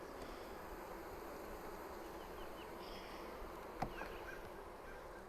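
Honey bees hum steadily in an open hive during an inspection, a dense continuous drone with a brief click near the end.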